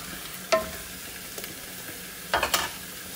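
Whole unpeeled medium potatoes frying in a pot with chicken, spices and paste, a soft steady sizzle with a few distinct stirring scrapes and knocks, no talking.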